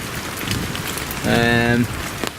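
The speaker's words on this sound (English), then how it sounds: "when it's heavy rain and the wind's blowing, the rain's just coming straight down on top of all my seats in my fire pit" Heavy rain pours down at a woodland camp with a fire pit, a steady, close hiss of drops, briefly overlapped by a short burst of voice in the middle.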